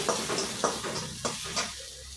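Onions sizzle in a hot pan for dhaba-style aloo bhuna, a steady close frying hiss broken by several distinct bursts of spattering as the pieces are stirred.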